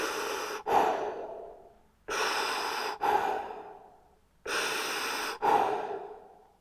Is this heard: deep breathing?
yes